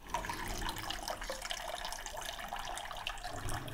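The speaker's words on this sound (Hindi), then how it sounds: "पानी उबल रहा है।" A pot of water boils on a home kitchen stove for cooking rice, giving a continuous soft hiss and bubbling that stays even and fairly faint throughout.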